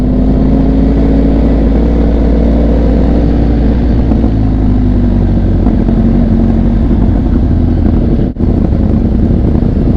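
Benelli TRK 502X motorcycle fitted with a Daivo exhaust, ridden along a dam road, its engine droning loud and steady close by with slight pitch shifts and a brief dropout near the end.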